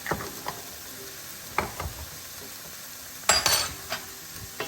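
Minced garlic is stirred in a hot pan for a chicken Marsala, with a soft sizzle beneath and a few light scrapes and clinks of the utensil, one sharper scrape standing out near the end.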